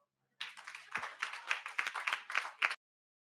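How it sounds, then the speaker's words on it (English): Brief clapping from a small audience at a healthcare branch opening event, a few seconds of quick claps rising and then stopping abruptly. "can we please get another round of applause for Emmanuel Jal?"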